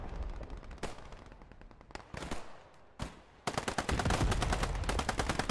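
Pistol gunshots in a video game: several sharp, isolated cracks spaced apart, then a fast, loud run of repeated shots near the end.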